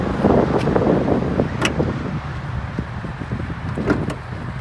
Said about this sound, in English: Let me get this hood open real quick.